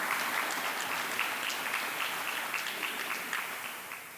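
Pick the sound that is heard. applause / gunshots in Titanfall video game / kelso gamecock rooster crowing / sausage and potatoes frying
applause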